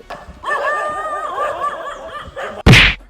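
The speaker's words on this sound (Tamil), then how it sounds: "ஓடிட்டு இருக்கும்போது எலும்பு நண்பரை பார்த்து நாயெல்லாம் குலைக்க ஆரம்பிச்சிருச்சு" Dogs bark at a runner on a road, a close, rapid series of harsh barks and yips, ending in a sharp, loud burst.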